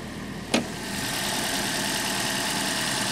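The 3-cylinder engine of a Scion iQ idles steadily under the open hood. A short click comes early, then a constant, even hum runs on alone at close range.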